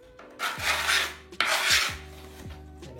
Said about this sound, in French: vous prenez votre tournevis métallique ou autre pièce et vous allez écraser